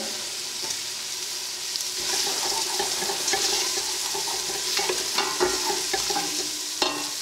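Garlic and ginger fry in a hot pan for a Sri Lankan chicken curry, giving a steady close sizzle with scraping stirs and light clinks that sharpen after the first two seconds.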